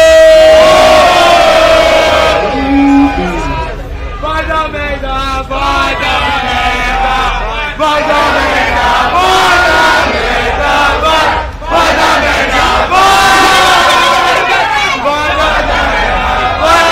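A rap battle semifinal crowd in Itaquera cheers, shouts and chants loudly, a dense roaring mass of voices with surges of yelling throughout, close and sustained.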